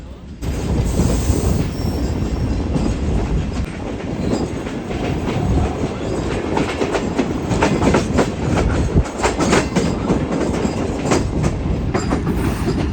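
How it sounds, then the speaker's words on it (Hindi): Awam Express passenger train approaching Begma station, heard from on board: a loud, steady rumble of wheels on rails with rhythmic clickety-clack and some wheel squeal, continuous throughout with no clear voices. "दोस्तों बेगमा जी पर हमारी ट्रेन अप्रोच बना रही है"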